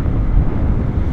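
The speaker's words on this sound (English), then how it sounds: "Ah, oh, wind blast." A wind blast on a winter day buffets the microphone outdoors, producing a loud, continuous low rumble with no other sounds.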